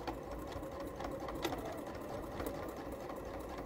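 A home sewing machine stitching fabric in a steady, fast mechanical whir with rhythmic needle clatter, fairly quiet and close, with no talking.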